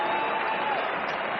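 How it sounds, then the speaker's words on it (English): Spectators around a cricket ground in the West Indies, with Australian players joining in, applauding a Test century by Mark Waugh in 1995, a steady dense wash of clapping heard alone. "Applause from the Australian players and from the spectators around the ground."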